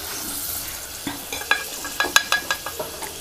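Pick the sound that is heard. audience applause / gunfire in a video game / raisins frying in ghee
raisins frying in ghee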